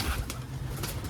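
A pigeon's wings beat as the bird is tossed up and released to fly, a brief close flurry of soft flapping with a faint coo-like murmur underneath.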